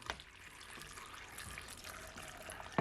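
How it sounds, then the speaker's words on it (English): Water is poured from a cup onto chopped apples for homemade apple juice, giving a faint, soft trickle and splash that ends in a brief louder clink. "So now I'm gonna add some water, and I'm gonna add at least 1 cup of water."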